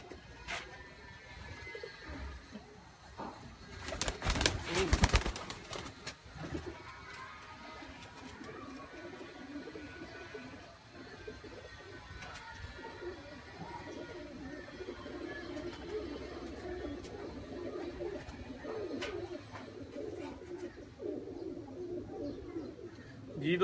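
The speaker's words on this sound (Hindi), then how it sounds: "मैं इत्थे बाहर ही लिया के दिखाना कबूतर" Pigeons coo softly and steadily at close range, with a sharp burst of wing flapping early on and a faint murmur of background noise, with no talking.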